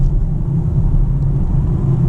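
A 2022 Polestar 2 Dual Motor car is driving and slowing after lifting off, heard as a steady low road rumble and cabin hum with no talking.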